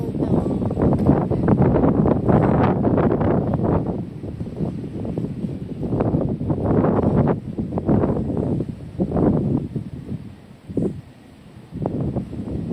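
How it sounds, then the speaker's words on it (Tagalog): Strong, fast wind at a residential staycation in Tagaytay roars and buffets the microphone in a continuous loud rumble that swells and eases in gusts, with faint voices now and then. "very, very strong, and it's so fast. It's so fast. So windy."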